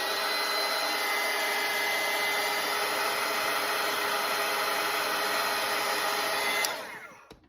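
A hair dryer blows steadily on a wet watercolor painting for several seconds, a loud constant whoosh, then clicks off and winds down near the end.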